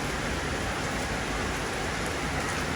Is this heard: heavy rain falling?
yes